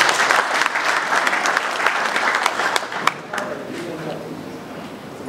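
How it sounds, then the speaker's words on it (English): Audience at a company launch event in Sudan applauding performing artists, brisk clapping that thins out partway through, with a few voices heard underneath. "I think we have to give them a clap,"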